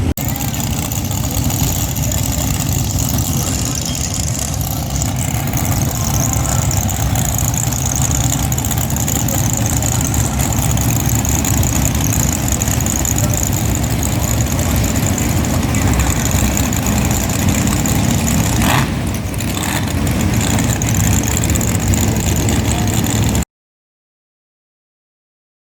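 A car with an LS engine idles steadily and close by at a Cleetus and Cars event in Bristol, Tennessee, a constant rumble with no breaks.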